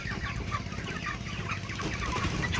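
Forty-five-day-old broiler chickens in their coop, a dense, continuous chorus of clucking from many birds close by, loud and unbroken throughout.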